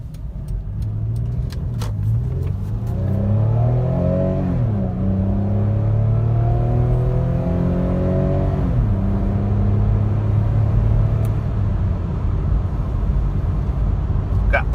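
A 3.3-litre V6 in an older Toyota Highlander Limited pulls hard through several gears from inside the cabin, the engine note rising and falling with each shift under a steady road rumble.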